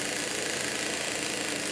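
A sewing machine stitches fabric for a dog dress, giving a continuous close, loud mechanical whir with an even buzzing texture and no pauses.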